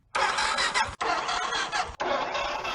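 A Vespa GTS 300 scooter with a dead battery failing to start. Three cranking bursts of about a second each come in quick succession, each one cutting off without the engine catching.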